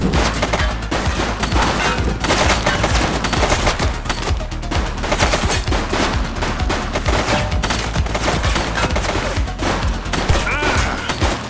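Loud, sustained bursts of gunfire in the police game The Precinct, overlapping shots crackling nearly nonstop with a rapid, rattling rhythm and no clear breaks.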